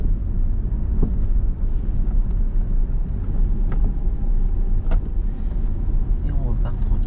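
A car on the road slows as the driver eases off the accelerator, a steady low engine and road rumble continuing throughout, with faint voices talking.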